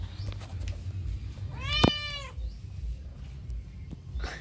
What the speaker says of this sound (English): This is the two Siamese cats.